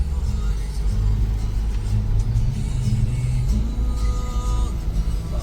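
A car pulls into the parking area of the Outlet Mall of India in Bhiwandi, its engine giving a steady, close low rumble that swells slightly partway through.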